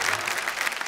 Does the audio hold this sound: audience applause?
yes